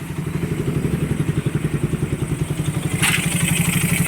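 A motorcycle engine running steadily with a rapid rhythmic clatter from a clutch housing or bearing fault, loud and close, with a brief hiss near the end.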